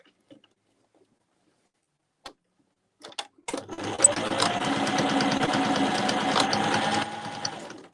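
A sewing machine stitches back and forth on a printed beach bag: a few soft clicks, then a steady close whirring run of a few seconds that eases off at the end.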